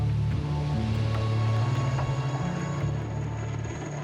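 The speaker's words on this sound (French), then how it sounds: "Dans la jungle, le balai des hélicoptères est incessant." Low, steady droning hum of helicopters flying over a French army base in the jungle, a sustained mechanical throb with slight shifts in pitch and no talking.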